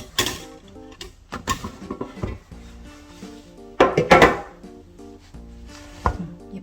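A baked low-carb keto loaf pan comes out of the oven with several sharp metallic clanks and knocks, spaced irregularly over soft background music.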